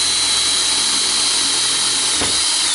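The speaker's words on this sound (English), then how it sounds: "Drill your hole." A power drill bores a hole through a piece of wood using a drill bit and guide, giving a loud, steady high-pitched whine throughout with a brief change in tone near the end.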